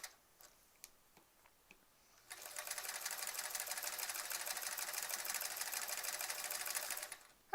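After a few quiet clicks, a sewing machine quilting with an open foot starts up and runs in a fast, even mechanical rattle for about five seconds, close and steady, then stops abruptly.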